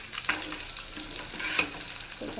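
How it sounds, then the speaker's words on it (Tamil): Prawns sizzling in a hot pan while being stirred, a steady close frying crackle with scraping spatula strokes and occasional sharper pops, no voices over it. "ஸோ எல்லாமே நல்லா ஃப்ரை ஆகிட்டுருக்கு"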